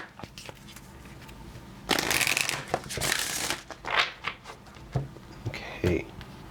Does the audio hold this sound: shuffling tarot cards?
yes